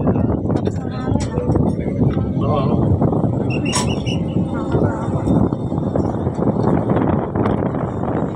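Strong wind buffets the microphone with constant loud roaring and rumbling, while voices talk underneath.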